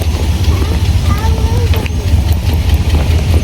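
A car engine idles with a steady, deep, low rumble close by, holding even throughout while faint voices sound in the background.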